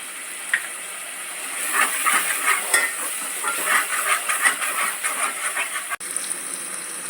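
Five spoons of homemade black masala sauté in oil with turmeric, a soft, hissing fry broken by irregular stirring scrapes that rise and fall close by.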